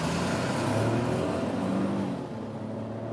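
A Smart fortwo Cabrio convertible accelerates hard from a traffic light, its small engine droning steadily and close from inside the car, easing slightly toward the end.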